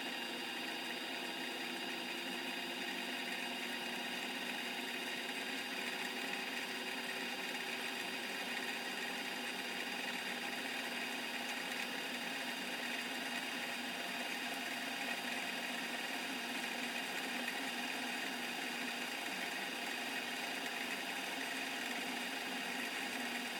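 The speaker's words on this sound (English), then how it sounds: "Let me turn on the spindle." A lathe spindle running steadily at 500 rpm during a threading job, a constant mechanical hum with a faint high whine, even and unbroken throughout, moderately close with no talk.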